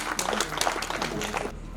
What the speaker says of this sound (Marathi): टाळ्या सर्वांनी